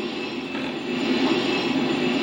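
A train in GTA San Andreas rumbles steadily and loudly, a continuous close rolling drone of wagons and wheels that holds throughout, with no voices.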